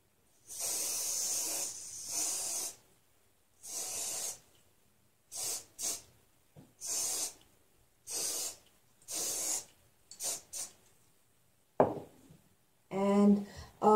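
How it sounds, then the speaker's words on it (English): A series of short hissing sprays from a spray bottle of cleaner onto sneakers, separated by brief pauses, close and fairly quiet, followed by a brief voice at the end. "So right now, I'm going to be spraying it on."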